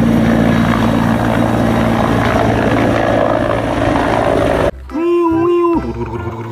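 Loud red helicopter rotor and engine roar close by, then an abrupt cut to quieter, tonal mechanical sounds near the end.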